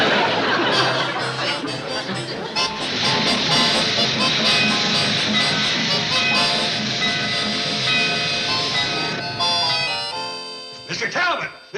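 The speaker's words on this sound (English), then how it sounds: "Train's coming in." A train arrives at a small rural station, giving a loud sustained hiss of steam and a bright whistle-like tone under continuous background music, fading out near the end.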